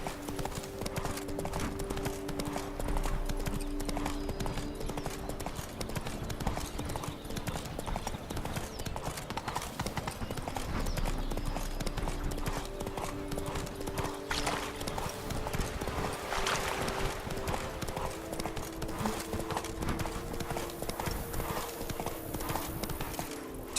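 Roach the horse trots in The Witcher 3, hooves clip-clopping in a steady, even rhythm throughout, with a soft whinny midway and ambient game sound underneath.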